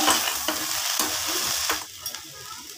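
Okra (bhindi) frying with spices in a pan as it is stirred, a steady close sizzle broken by repeated scraping strokes of the spoon against the pan.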